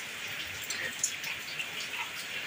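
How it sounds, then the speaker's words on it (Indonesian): Heavy rain pours at night outside a house while fish is cooked outdoors, a steady close hiss of falling water with scattered louder drops, heard alone. "Ini hujan-hujan guys"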